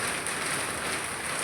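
Heavy rain and hail driven by strong wind pound a house during a crop-damaging hailstorm, making a steady, dense, close hiss that holds without a break, with no voices.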